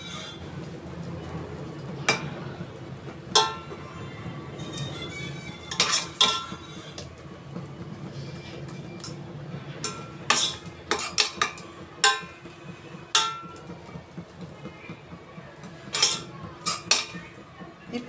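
A spoon stirs milk into a thick white sauce paste in a metal pan, with irregular scraping and sharp clinks against the pan's sides, fairly close and alone over a faint low hum.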